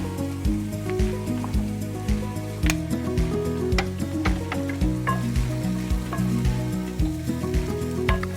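Brussels sprouts sauté in a pan, giving a steady crackling sizzle with scattered sharp pops and spits, close and continuous throughout.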